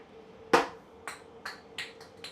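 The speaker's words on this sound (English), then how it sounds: "I just dropped the 90 that I was working on" A small 90-degree watercooling fitting drops onto a hard surface, with a sharp metallic clink followed by several smaller bounces and rattles that quickly fade, heard close and alone over a faint background hum.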